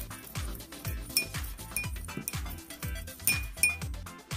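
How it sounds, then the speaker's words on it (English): Seasoning spices, including garlic powder, Italian seasoning and paprika, get stirred together in a glass bowl, with a utensil knocking and clinking against the glass in a quick, irregular rhythm, close and fairly quiet, with no talk. "So I'm gonna go ahead and mix all this together."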